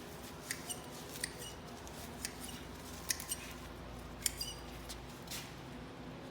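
Bundled ornamental grasses being cut close to the ground, with sparse, sharp snips of shears sounding over a steady low outdoor background hum.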